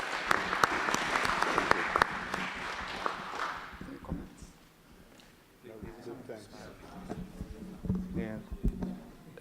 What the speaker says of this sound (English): So please give that speaker a big round of applause.